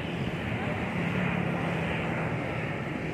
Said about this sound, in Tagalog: Oh, nakita nyo? Aeroplano.